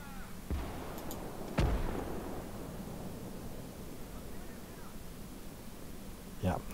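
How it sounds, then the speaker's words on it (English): A few distant gunshots crack across a World War II battlefield skirmish at Mamayev Kurgan in Gates of Hell, isolated sharp reports over a low rumbling ambience, one louder shot near the middle and another at the end. "There's about to be some gunfire."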